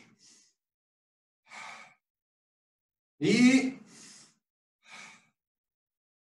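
Shinkaku breathing exercise in a karate class: slow, audible breaths and sighs, a strong exhale in the middle and softer breaths around it, separated by silence, with a brief spoken word.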